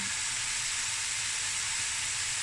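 Chilies and dry curry leaves sizzle in hot oil with a loud, continuous bright hiss and spatter, close up and unbroken.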